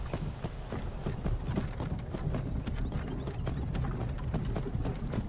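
A horse pulls a cart in modded Skyrim, its hooves clip-clopping in a brisk, even rhythm, fairly quiet and alone, with no talk over it.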